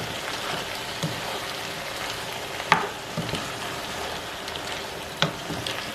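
Spinach being stirred into simmering okra soup, a soft continuous bubbling sizzle close by with a few sharp spoon scrapes against the pot.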